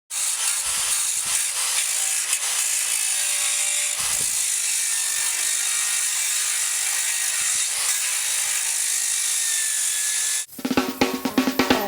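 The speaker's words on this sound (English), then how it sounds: "we're just going to use a wire brush on a drill to clean this up" A drill spins a wire brush against painted metal on vintage caravan parts, a loud continuous abrasive whir for about ten seconds, ending in rattling clatter.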